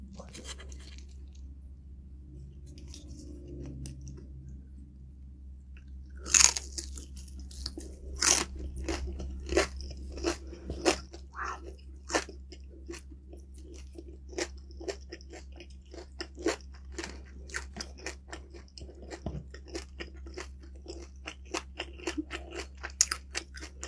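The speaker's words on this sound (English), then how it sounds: "It's very crunchy, and the fat under the skin just makes it a little chewy." Crispy skin with a layer of fat beneath is bitten and chewed up close, giving sharp crunches followed by a long, steady run of crackly chewing over a low background hum.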